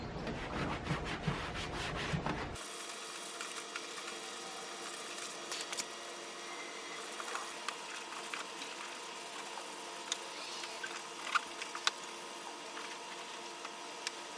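An applicator pad rubs Meguiar's plastic trim restorer onto the plastic trim of a Saab 9-3, a steady soft scrubbing and rasping that runs close and continuous throughout, with occasional small clicks and no voices.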